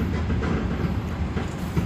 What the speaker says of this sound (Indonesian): Kita nikmati dulu trip sepi kereta api lokal